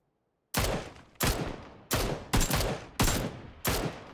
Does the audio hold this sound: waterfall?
no